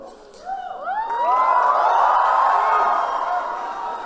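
A young audience of school students at the International School Bangalore cheers and whoops loudly as a crowd, with high shrieking voices rising after a brief lull and holding steady for several seconds.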